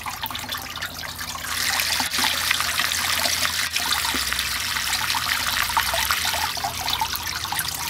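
Water pours and trickles steadily into a fine gold recovery bowl, a continuous close splashing flow that grows slightly stronger after the first couple of seconds, with no voices.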